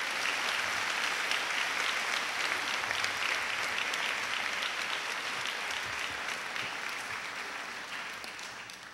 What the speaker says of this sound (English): Could we give them all a nice round of applause